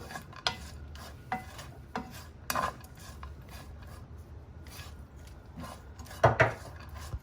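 Almonds scraped and stirred in a pan as their sugar caramelizes, with intermittent clicks and scrapes of the utensil against the pan over a soft background.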